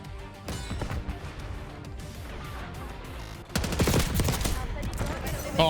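GPR 91 rifle gunfire in a Black Ops 6 multiplayer match, with dense rapid shots and impacts that grow louder and heavier in the second half, mixed with game action and faint voices.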